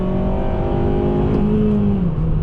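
A 2007 Honda Civic Type-R engine revs hard at high pitch, nearly 8,500 rpm, a loud continuous roar that holds and then drops slightly near the end.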